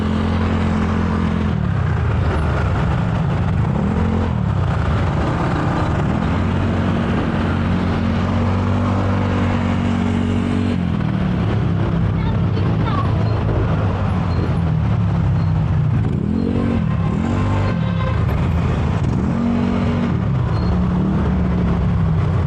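Heavy vehicle engine rumbling steadily close by, with gear-shifting rises and falls in pitch as a large truck labors along the road.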